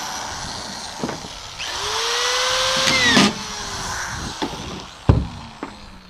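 A power drill whirs steadily while driving screws into a floor, its motor pitch sagging under load, with sharp knocks and clunks scattered around it.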